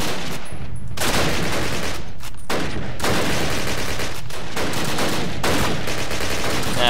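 Dense bursts of automatic gunfire in the PC game Call of Duty, loud and close, rattling in long sustained volleys with brief gaps between them.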